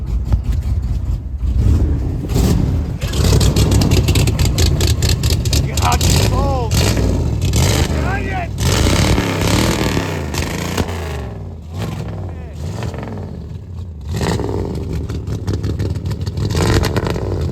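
Big block 1991 Chevy 3500 dually engine revving under throttle, a loud, rough, steady roar that rises and falls in bursts close by, with people talking over it.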